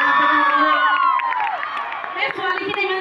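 Girls in the crowd at a Bihu stage show during the Sapekhati Bihu mela shriek and cheer, with loud, shrill, rising and falling whoops over a busy crowd murmur and some talk.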